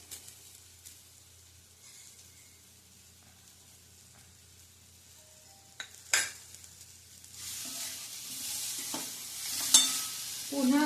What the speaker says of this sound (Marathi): पुन्हा जरा परतून घ्यायचंय.